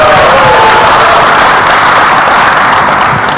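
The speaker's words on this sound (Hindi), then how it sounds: "जोरदार तालियां हो जाए" Loud, dense applause from a large audience at a Mumbai film trailer launch, steady crowd clapping and cheering filling the whole stretch without a break.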